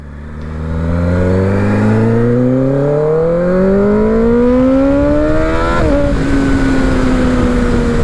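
A Kawasaki ZX-10R with an essentially straight-piped exhaust and a large catalytic converter revs hard, its loud, raspy engine note climbing steadily for several seconds, then snapping down and holding a high steady drone, with no voices.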